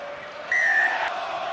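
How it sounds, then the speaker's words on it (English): Stadium crowd at a rugby match between Ulster and Benetton, a broad roar of cheering that swells abruptly, with a sharp whistle-like tone over it that then tails off. "Crowd loving this"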